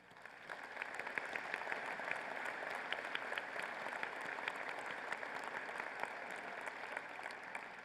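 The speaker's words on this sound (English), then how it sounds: "would you give them a round of applause?" An audience at the 2019 IU East commencement ceremony applauds the standing staff. The clapping is steady and moderately distant, with a few sharper nearby claps standing out throughout.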